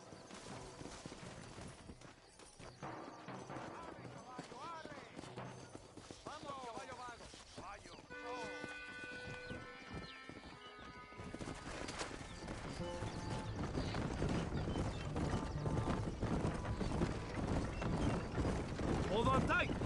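Hooves clip-clop from a horse ridden in the Red Dead Redemption video game, a soft rapid clatter under game music and ambient sound that swells louder toward the end.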